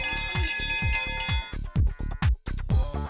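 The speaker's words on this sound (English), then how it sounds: "If you want to ring the bell." A bell rung by a recruiting team in an office to greet visitors, struck again and again in a quick, uneven series of bright, ringing clangs heard loud and close.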